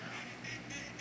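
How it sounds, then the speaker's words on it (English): Ducks quack in a noisy flurry on a rainy homestead, several calls overlapping at moderate distance over a steady hiss of rain. "he's teaching how to catch ducks"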